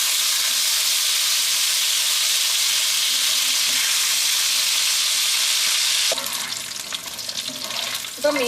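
Fish frying in hot oil in a pan while making fish pickle, a loud steady sizzle that drops to a softer, crackling spatter partway through after the fish is turned.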